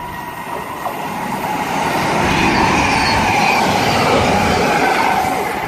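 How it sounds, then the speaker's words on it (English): Class 221 train 221116, bound from Chester to London Euston, rushes past at close range on the West Coast Main Line at Rugeley Trent Valley, a loud, steady roar of wheels and air turbulence without talk. "22116 passing from Chester to London Euston"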